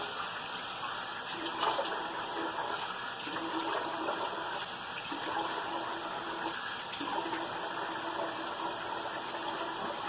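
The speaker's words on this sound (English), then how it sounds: "Now I'm going to take my water and I'm going to rinse my head." Water pours and splashes continuously for several seconds as it rinses a person's head, a steady gushing stream with slight surges, close and fairly loud.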